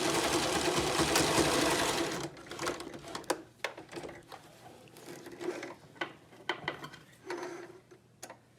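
A sewing machine runs a zigzag stitch along the elastic edge of a fabric mask, a loud continuous whirring burst at first, then quieter handling clicks and brief rattling stitches nearby.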